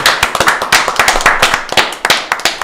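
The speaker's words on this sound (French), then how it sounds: "Numéro 1, Nicolas, on peut l'applaudir." A studio audience on a French talk show claps for Nicolas, the winner ranked number one, with a dense, steady patter of close hand claps throughout and no talking.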